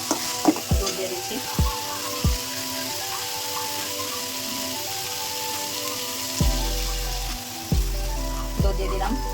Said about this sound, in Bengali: ডিমটা একটু নাড়াচাড়া করে তারপর দুধ দিয়ে দেবো